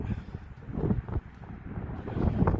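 Strong wind gusting across open ground at the Waterloo battlefield near the Lion's Mound, buffeting the microphone in loud uneven surges.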